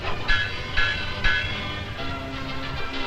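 A boat bell rings three times in quick, evenly spaced strikes, clear and fairly close, over a low rumbling background at a waterfront blessing of the boats, followed by a lower steady tone.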